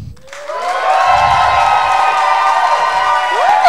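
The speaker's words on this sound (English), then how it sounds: "Ooh, that's a good cheer, mate." A comedy club audience cheers and whoops loudly for a comedian at an amateur contest, a sustained burst of crowd noise with high shouts riding on top, filling the whole moment.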